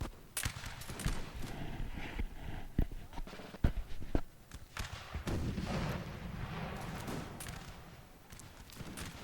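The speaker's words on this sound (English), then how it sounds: "I think the British will give the first volley" Musket volleys and canister shot ring out across a Napoleonic Total War multiplayer battlefield with British troops, a run of sharp, separate bangs with some scattered shots over a steady low rumble of battle, with a voice talking over parts of it.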